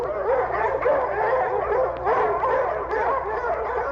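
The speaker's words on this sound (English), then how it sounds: "wolf pack." A chorus of wolves yipping, whining and howling together, overlapping voices forming a dense, continuous wild clamor.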